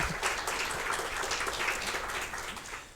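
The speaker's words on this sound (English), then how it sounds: "Big applause for Vladimír," An audience claps steadily for about three seconds, a dense, continuous patter of applause that holds even and fades only slightly toward the end.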